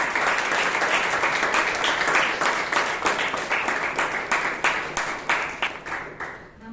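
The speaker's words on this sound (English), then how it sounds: "Let's give a huge round of applause for a Toastmaster" An audience at a Bangalore Toastmasters meeting applauds the Toastmaster with steady, dense clapping that holds for several seconds, then thins into scattered claps and fades, with no talk over it.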